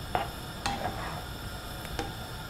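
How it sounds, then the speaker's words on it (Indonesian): Tempeh braising in a spiced sauce in a pan while a spoon stirs it, giving a few light scrapes and clinks over a soft, steady simmer. "Jadi tempenya ini kita ungkep ya"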